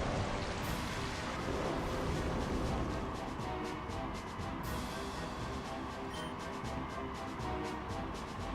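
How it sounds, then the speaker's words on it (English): Steady, loud rain hiss from a Pokemon Gen 3 video game, continuous and dense throughout with no speech over it. "Oh, duh, I made it start raining."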